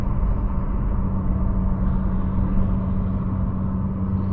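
A 1995 Ford Falcon GLi EF with a manual gearbox and a loud aftermarket exhaust, its engine holding a steady, deep rumbling drone from inside the car, with no talk.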